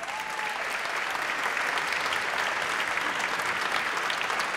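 An audience at the opening ceremony of a film festival in Valdivia claps in sustained, dense applause that stays loud and even throughout.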